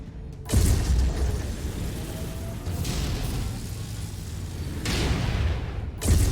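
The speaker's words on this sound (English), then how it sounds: "Incoming missile." An incoming missile strike in MechWarrior 5 lands as a heavy boom, followed by a sustained rumbling roar of battle, with a second loud burst near the end; loud and close, no talk.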